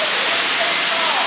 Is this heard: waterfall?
yes